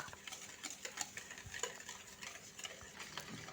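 An egg and sugar are mixed together in a bowl, a quiet run of rapid ticking whisk or spoon strikes with soft scraping, close and faint.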